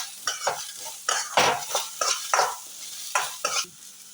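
Green chilies stirred into onions frying with curry leaves in a pan, a series of sharp scraping stirs against the metal over a light sizzle, close and quick in rhythm.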